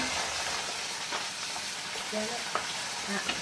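Crushed ginger and garlic frying in oil for a country-style chicken curry, a loud continuous sizzle with occasional stirring clicks and scrapes close by.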